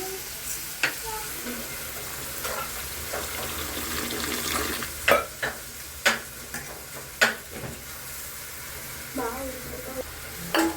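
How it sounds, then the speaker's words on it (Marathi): Onion fries in a pan for a Kolhapuri veg pulao, a soft steady sizzle running throughout, broken by several sharp clinks and clatters of utensils close by. "माझा आता कांदा भाजत आहे"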